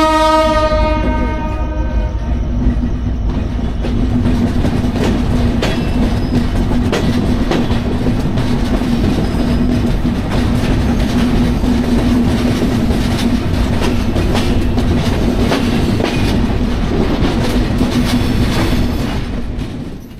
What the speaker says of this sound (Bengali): আমাদের ট্রেন যশোহর জাংশন থেকে ছেড়ে দিল